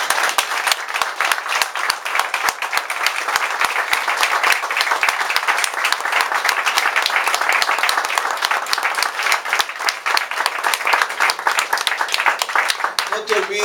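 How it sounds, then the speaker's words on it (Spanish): Sustained applause from a church congregation during a sermon, dense steady clapping from many hands at fairly close range with no talk over it. "Entonces dale un aplauso a Jesús."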